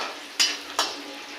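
Onions browning in a kadhai give a faint steady sizzle, broken by two quick scraping stirs of a spoon against the pan, no talk.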